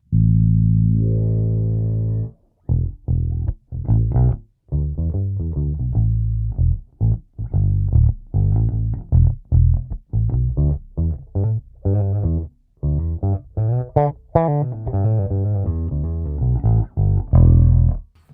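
Deep electric bass through a Wal/Alembic-style filter preamp with the bridge filter engaged, playing a run of plucked notes, loud and close, with a round low end and a slightly growly edge, no voices.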